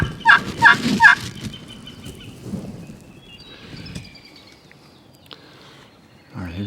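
Wild turkey gobblers in West Virginia, two toms near a hen, give three loud rolling gobbles in quick succession at the start, followed by quieter rustling and faint distant calls in an otherwise calm outdoor setting.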